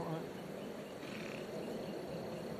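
A steady, dense buzz of insects fills an outdoor setting on a farm where a chicken lot post is being set, continuous and fairly loud with no clear pauses, under faint background talk.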